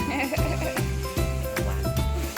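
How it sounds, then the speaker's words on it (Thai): Sheep bleat several times in a row at a cafe attraction, close and fairly loud, each call a wavering, nasal cry in quick succession. "โอ้เจ้าแกะ"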